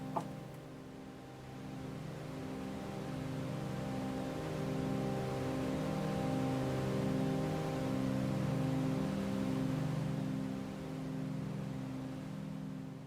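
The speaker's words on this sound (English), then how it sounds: "at the moment, this is just white noise" A steady hiss of broadband noise with a low hum runs continuously, swelling slightly louder in the middle before easing back.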